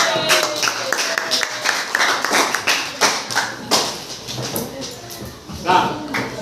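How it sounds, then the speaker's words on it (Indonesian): A class claps for a student group in a classroom, with scattered hand claps coming in uneven bursts while voices talk over them. "tepuk tangan beri hormat untuk kelompok 1"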